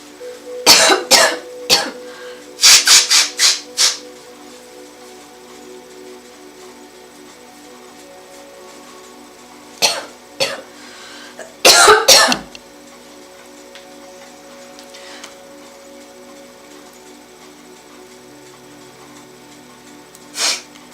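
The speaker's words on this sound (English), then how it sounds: "let me blow my nose because I'm very uncomfortable right now." A person blows their nose in several loud, close, sharp bursts, two clusters early, two more later, with long quiet gaps and a faint ticking in the background.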